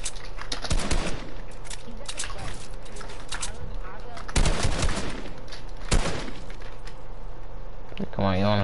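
Video game gunfire comes in several loud bursts of rapid shots, separated by gaps, with a person talking over the action at times.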